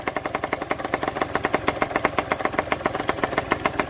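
Aprilia RS50 Extrema two-stroke motorcycle, smoking with oil in the exhaust, revving in rapid repeated bursts, a loud close buzzing engine pulsing in quick even blips.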